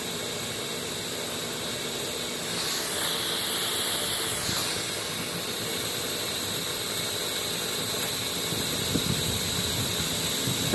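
Steam boiler safety valve simmering at 140 psi, a steady continuous hiss of escaping steam with a slight rise and fall in intensity, close and fairly loud, with no voices.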